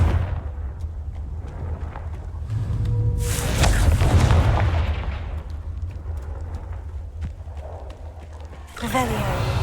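Fire spell bursts in the Hogwarts Legacy video game inside a maze-like undercroft, a loud booming blast swelling mid-clip over a low rumbling bed, with a sharper crackling burst near the end.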